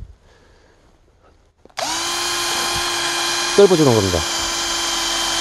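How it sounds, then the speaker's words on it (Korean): A power drill bores a hole into the living stem of a kudzu root outdoors, starting abruptly with a loud, steady whine that briefly dips in pitch as it bites. Someone speaks over the drilling. "드릴로"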